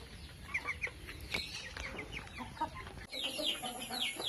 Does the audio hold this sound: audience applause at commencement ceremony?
no